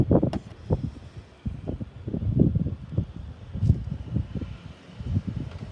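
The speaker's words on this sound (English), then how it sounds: "Quite windy here." Gusty wind buffets the microphone outdoors in a garden in uneven low rumbling bursts, with faint rustling behind it.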